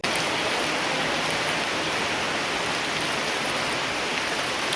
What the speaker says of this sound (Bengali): হঠাৎ ঝমঝমিয়ে বৃষ্টি চলে এলো